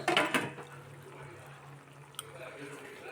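Spinach kootu simmers in a covered pot. A short metallic clatter at the start gives way to soft, steady bubbling beneath a person talking.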